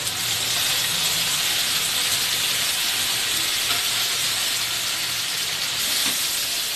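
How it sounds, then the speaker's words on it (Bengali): Hilsa fish heads and onion fry together in a pan, a steady dense sizzle and hiss that stays close and even, with no talking. "এবার মাছটা পেঁয়াজটা আমি একসাথে ভেজে নেবো"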